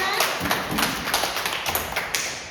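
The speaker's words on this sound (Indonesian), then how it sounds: "Tepuk tangan" Classmates in a school classroom clap for a student with a short burst of scattered hand claps and taps, close by and uneven in rhythm.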